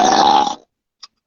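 A person lets out a single loud, drawn-out burp lasting about half a second, followed by silence and a faint brief click.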